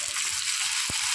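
Katwa stalks frying in a pan with eggplant, potato and pumpkin, a soft continuous sizzle with one brief low knock of stirring, no voices.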